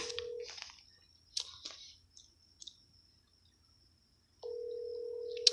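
Phone number dialed on a telephone to call a man: a steady dial tone, then a quick series of DTMF key beeps and clicks, a pause, and the dial tone returning near and clear, with no talk.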